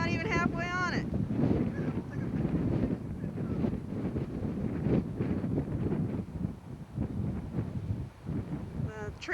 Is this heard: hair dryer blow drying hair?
no